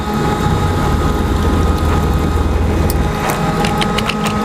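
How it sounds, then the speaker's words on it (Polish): A Maxus 33 boat engine runs in reverse gear, a loud, steady, close rumbling drone with a constant hum that holds at an even level. "silnik pracuje na biegu wstecznym"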